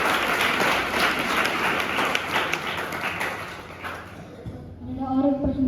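An audience at a religious question-and-answer gathering with a Jain monk claps in a dense round that thins out after a few seconds, followed by a voice speaking.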